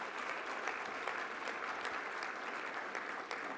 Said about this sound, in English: that deserves a major applause